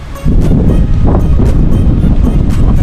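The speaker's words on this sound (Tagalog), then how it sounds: "malakas po ang hangin" Strong, gusty typhoon wind roars loudly and continuously, buffeting close to the microphone.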